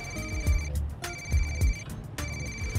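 A phone ringtone signals an incoming call, repeating electronic ring bursts at a steady rhythm, loud and close, with no talk over it.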